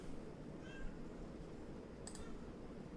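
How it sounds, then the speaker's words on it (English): Domestic cat meowing once faintly at a distance, followed by a brief scratching burst against a door, all over a steady low indoor hum. "My cat was scratching at my door."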